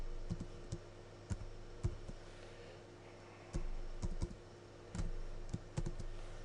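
Keys clack on a computer keyboard in short irregular bursts of close, crisp typing with brief pauses between, and no voices.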